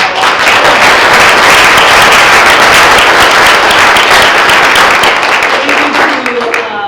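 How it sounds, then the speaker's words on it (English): Audience at a Black History Month panel event breaking into a loud, sustained round of applause with dense clapping that thins slightly toward the end. "Let's give them a round of applause"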